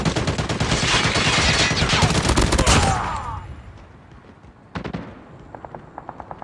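Turret gunfire in Call of Duty: a dense, loud stream of rapid shots for about three seconds, fading out, followed by a sharp burst and a few lighter, evenly spaced pops.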